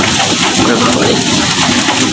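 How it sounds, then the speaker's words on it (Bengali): Rain falls steadily through a morning after an overnight downpour, a dense, loud, unbroken wash of drops close by with no pauses over the short stretch. "বৃষ্টি নামতেছে রাতে থেকেই"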